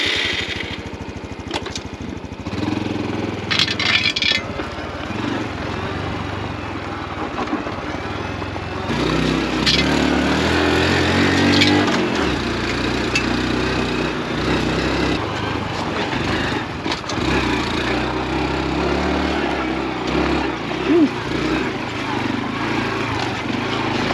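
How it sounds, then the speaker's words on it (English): A 2022 Honda Trail 125 motorcycle built for adventure riding buzzes along on a test ride, its small single engine droning steadily up close with rising and falling revs and wind noise. "2022 Honda Trail 125 adventure build. Little mini enduro test ride."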